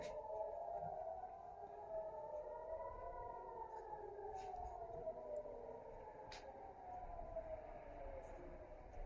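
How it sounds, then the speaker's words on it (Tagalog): An air raid warning siren wailing over Jerusalem, a steady distant rising-and-falling tone heard from indoors under a faint background hiss, continuous throughout. "Tuloy-tuloy pa rin ang warning. Nakatatlo na ang sirena."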